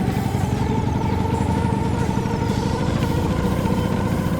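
Classic Vespa scooter engine running in second gear while ridden slowly around a yard, a loud steady drone with a constant low throb and a faint rising whine, no voices.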